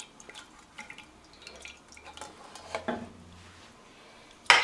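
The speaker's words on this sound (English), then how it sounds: "hold it with the spoon and let the excess juices run back into the pan" Excess juices from slow-roasted chicken thighs run off a spoon back into the pan, heard as faint, sparse drips and small clinks against a quiet background.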